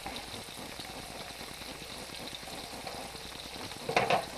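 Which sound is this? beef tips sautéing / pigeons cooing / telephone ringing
beef tips sautéing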